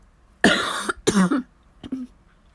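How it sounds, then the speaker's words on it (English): Two harsh, close coughs in quick succession, followed by a softer short throat-clearing sound. "I've got the remnants of a cough"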